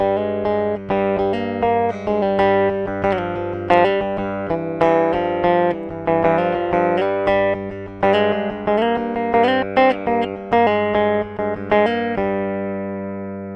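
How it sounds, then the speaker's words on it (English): Ibanez BTB 845V bass played with highs fully boosted and mids pushed at 700 Hz, giving a bright, buzzy, sitar-like tone; a steady run of plucked notes and chords rings out alone, ending on a sustained decaying note. "When I push the highs all the way up, and push the mids at 700 hertz, the BTB is able to sound a little like a zitar."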